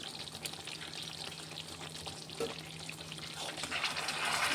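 A pot of curry cooking after a splash of hot water and a spoonful of ghee, giving a soft bubbling hiss that grows gradually louder and busier toward the end, with faint kitchen clatter.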